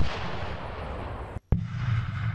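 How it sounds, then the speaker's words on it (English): A homemade Tannerite-type target explosive detonates with a single heavy boom that cuts through a dense wash of outdoor wind noise, followed by a brief sharp silence and rumbling aftermath. "watch what happens when we detonate a homemade version of that same type of product"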